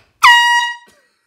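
A single short, loud air horn blast at a 21st birthday party, brassy and harmonic, lasting about half a second before cutting off.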